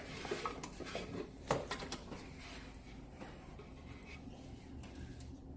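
Cut potato pieces tumbling into a pot for vegetable beef soup, a few faint clattering knocks and scrapes near the start, then quiet kitchen rustle.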